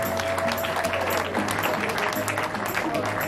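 Applause for the groom, Raphaël, at a religious wedding dance party, a steady broad clatter of clapping that runs the whole moment, with music and voices mixed underneath.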